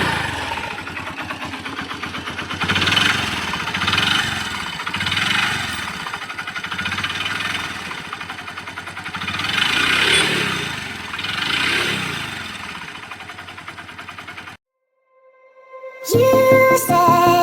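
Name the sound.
Honda Dream Yuga motorcycle engine running after rebuild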